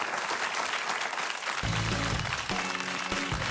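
A studio audience on a late-night television talk show claps in sustained, dense applause that holds at an even level for several seconds.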